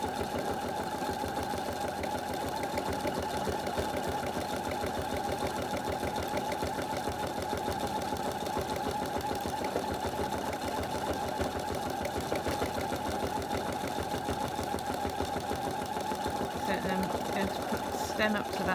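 A sewing machine stitches free-machine embroidery of tiny petals and stems on a vintage caravan design, giving a steady, continuous fast hum and rattle throughout, with a voice speaking over it.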